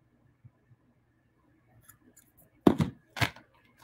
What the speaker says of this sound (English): when it happens to you, you just stop, cut the thread